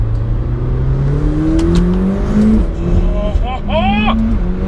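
A McLaren 720S 4-litre twin-turbo engine revs and accelerates with a rising whine, loud and close, over a steady interior rumble, with a voice briefly chirping near the end.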